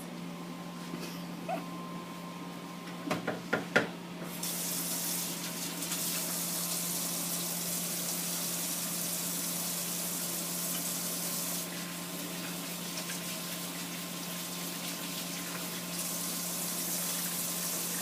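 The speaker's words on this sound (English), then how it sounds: "I'm going to go and I'm going to wash my hands." Hand washing at a sink tap during a clinical nursing assessment station, heard as a steady broadband water rush that starts after a few brief knocks and runs continuously to the end, fairly close and alone without talk.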